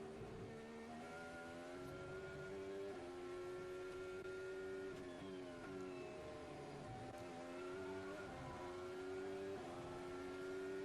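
Oscar Piastri's Formula 1 car at the Mexico Grand Prix, heard from the onboard camera, its engine screaming at high revs with rising and dropping pitch through gear changes, loud and continuous throughout.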